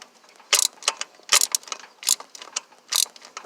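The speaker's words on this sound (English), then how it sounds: "So just gonna ratchet this out." Ratchet wrench loosening the top starter bolt on a 1978 Toyota pickup, a series of close, sharp clicking bursts in uneven pulls, loud and alone with no talk.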